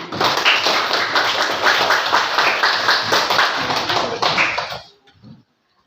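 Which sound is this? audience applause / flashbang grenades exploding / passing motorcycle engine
audience applause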